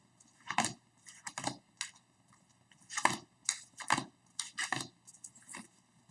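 Tarot cards being shuffled by hand, crisp riffling and flicking bursts in irregular clusters, close and fairly quiet with no talk.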